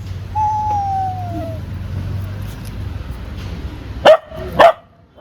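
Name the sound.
dog barking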